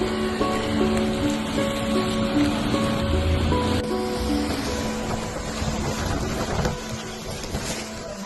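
Steady rushing river water fills the scene, a continuous broad wash of flowing sound with no voices.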